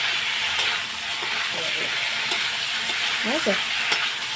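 Spices with Kashmiri chilli powder being sautéed in a pan, a steady sizzle with scattered spoon scrapes and a few short clinks, nearby, with no talk.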